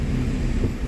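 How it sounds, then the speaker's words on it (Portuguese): Trucks come and go on a town road in Ouricuri, in the Pernambuco sertão, making a steady, loud, close engine and traffic rumble with no pauses. "É chegando o caminhão, saindo o caminhão."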